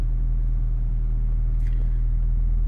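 A Ford Focus engine idling just after a push-button start, heard as a close, steady low rumble and hum that holds constant throughout with no voices.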